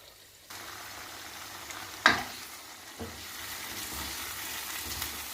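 Eggplant frying in a pan for Manado-style rica rodo, being stirred: a steady, close sizzle with a sharp clatter of the spoon against the pan about two seconds in, then continued frying.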